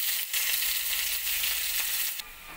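Chopped onion frying in hot oil in a wok, seasoned with panch phoron and a bay leaf, gives a loud, close, continuous sizzle with a sharp burst at the start and a drop near the end.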